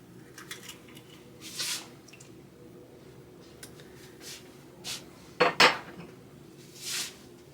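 Mixing applesauce raisin bread batter in a bowl, with scattered clinks and scrapes of a utensil against the bowl and soft squishy stirring sounds, fairly quiet and with no talking.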